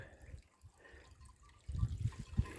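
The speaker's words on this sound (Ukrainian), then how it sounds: "також струмочок, який тече в наше озеро" A small mountain stream by a lake in the hills near Bergen, Norway, trickles faintly and steadily, with a few louder splashing gurgles toward the end and no voices.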